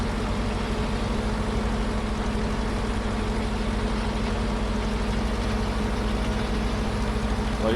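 An old farm vehicle with an old tipper trailer behind idles in Farming Simulator 25, a constant loud low engine rumble with an even throb and no breaks.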